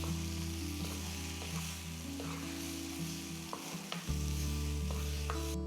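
Ginger chutney fries and sizzles in a pan while being stirred, a steady close sizzle with scraping stir strokes and a brief dip before the hiss picks up again.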